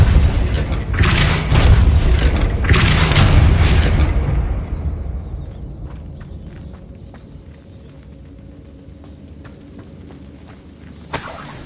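A Repulsor spell from Hogwarts Legacy lands as two heavy booming blasts close together, followed by a long rumbling decay with faint debris clatter, then a sharp crack at the end.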